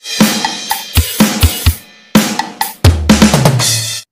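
A drum kit plays a short groove at moderate tempo, kick, snare and toms hitting in a steady pattern, ending with a ringing cymbal-backed flourish.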